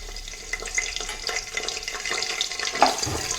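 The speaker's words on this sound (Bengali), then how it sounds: "তেল গরম হয়ে গেছে, আমি কিছু খাড়া মশলা নিয়েছি, তেজপাতা, এলাইচি, লং, দারচিনি, গোলমরিচ, এটি আমি তেলের উপর অ্যাড করে দিচ্ছি।" Whole spices (bay leaf, cardamom, clove, cinnamon and black pepper) sizzle in hot oil for mutton biryani, giving a steady crackling hiss with small pops, close and alone.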